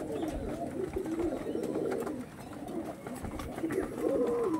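Tournament-quality pigeons give deep, burbling coos, near and fairly loud, in repeated bursts that rise and fall over several seconds.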